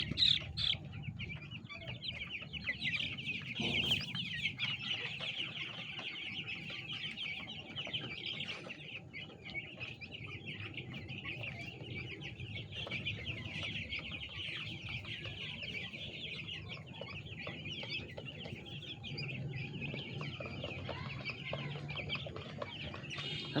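Broiler chickens in a farm shed keep up a continuous murmur of clucking and soft calls, with occasional wing flaps, moderately close and with no voices.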